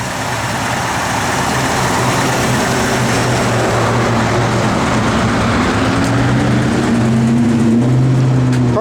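A 1966 Ford Fairlane 500 GT convertible's engine runs at a steady idle, a loud, continuous low rumble with a rising tone late on and no one speaking.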